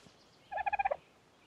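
Pheasant call in ARK: Survival Evolved, a quick rapid burst of about six gobbling pulses in a row, moderately loud and alone.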